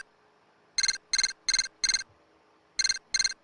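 Electronic ring of a transceiver in the Phoenix Wright Ace Attorney video game: six short trilling bursts in two groups, four quick rings then a pause and two more, loud and clear with no talk.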